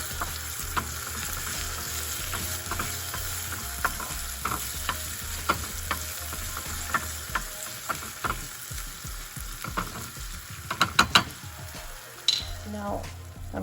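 Seeds for handvo sizzle steadily in a hot pan, a constant close frying hiss with sharp stirring clicks and spatula taps growing busier toward the end.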